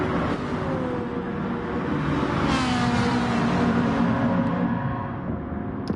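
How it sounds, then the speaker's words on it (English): A Ferrari 458 and a McLaren 650F racing past, one continuous engine drone with a rising then falling pitch as the cars go by, steady and fairly loud with no talking. "The Ferrari 458 going past the McLaren 650F."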